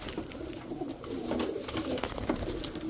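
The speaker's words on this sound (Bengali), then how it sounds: "সুন্দর কবুতরগুলো মাশাআল্লাহ দেখেন" Pakistani Teddy pigeons coo softly nearby, low throaty rolling calls repeating over a hum of background noise.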